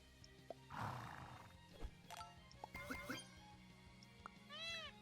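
A horse sound effect in the video game Super Auto Pets: short whinnies and neighs with a cartoonish, pitched-up quality, several separate calls spread over a few seconds and ending in a rising and falling warble, fairly clear and alone.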